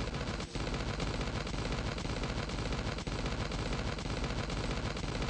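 Upgraded level 3 and 4 defensive turrets in the survival game Last Day on Earth fire nonstop, a dense, loud barrage of rapid gunfire shots with hardly a break.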